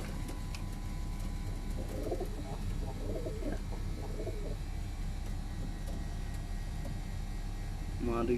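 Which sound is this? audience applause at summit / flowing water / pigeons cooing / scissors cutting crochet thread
pigeons cooing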